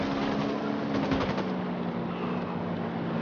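Rapid automatic gunfire in the video game Ghost Recon Wildlands: a quick burst of closely spaced shots over a steady background roar, loud and near, trailing off into continuous noise with no talk.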